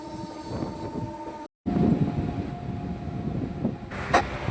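Howrah–Amta local train pulling into Ramrajatala station, a steady rolling rumble with faint tonal whine, broken by a brief dropout before the noise resumes and swells slightly near the end.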